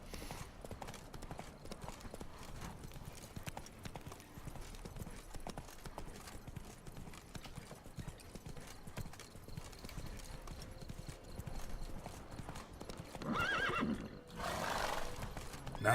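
Roach, the horse in the Witcher 3 video game, galloping: rapid, continuous rhythmic hoofbeats at moderate loudness, followed near the end by a loud whinny, with game background sounds around it.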